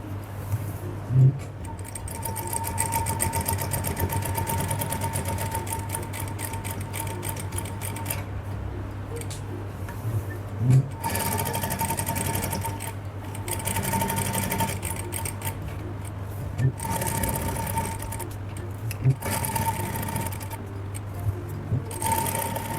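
A sewing machine stitches the hem of a salwar in bursts of steady mechanical whirring, stopping and restarting several times across the stretch, close and clear with no talk.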